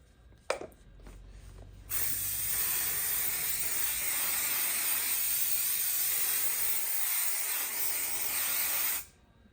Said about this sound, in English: I'm just going to spray the spray on here.